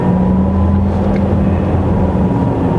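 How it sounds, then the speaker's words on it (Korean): A Porsche Taycan 4S electric car gives off its synthetic acceleration sound, a steady, loud low hum with a sustained tonal drone that holds evenly throughout, with no talk. "가속 페달을 밟는 양에 비례하게 네, 이런 효과음을 좀 내줍니다"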